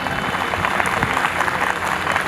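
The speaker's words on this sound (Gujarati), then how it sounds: "આમાં તમે તાળી પાડી એના માટે આભાર" Dense applause from an audience at a Gujarati family gathering, steady and close, filling the whole short stretch without any voice over it.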